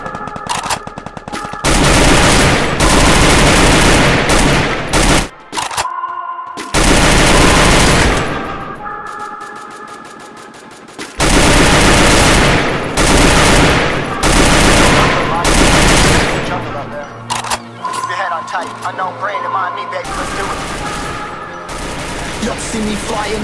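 Dense automatic gunfire from the battle royale game Garena Free Fire, with long loud bursts of rapid shots broken by short gaps, alongside other game sounds.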